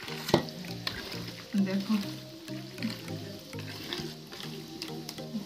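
Tomatoes frying in oil with steady sizzling and occasional stirring clatter, a person talking over the cooking throughout.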